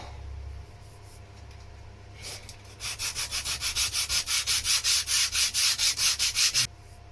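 Hand sanding of filler on the fairing of a Shetland boat, heard up close as roughly fourteen steady, rhythmic rasping strokes after a quiet start, with no voices.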